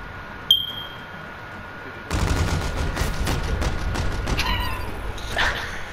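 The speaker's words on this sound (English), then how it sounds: "Did you shoot him through the van?" Gunfire in a first-person shooter video game, rounds fired through a van, comes as a dense burst of rapid shots after a quiet start, with sharp cracks and clatter toward the end.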